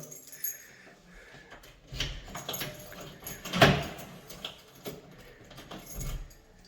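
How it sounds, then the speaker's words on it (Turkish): Quiet metallic clicks and rattling as a key turns in a door lock, with one sharper clack partway through. "bu kilit sesi yeni bir hayatın sesi olacak bizim için inşallah"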